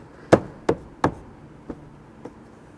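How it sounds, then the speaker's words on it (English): Interior trim panel on a Toyota RAV4 being pressed back into place near the roof and door seal: three sharp, close knocks in quick succession, then two fainter taps. "And then you can snap this panel back in."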